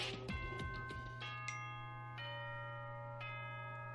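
The school-announcement chime from the Danganronpa 2 video game sounds as a series of clear bell tones, each ringing out and decaying over a steady low hum, fairly quiet and with no speech.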